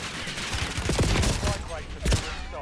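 Gunfire in Call of Duty Warzone, several sharp close shots in quick irregular bursts over about two seconds, mixed with game noise and a talking voice.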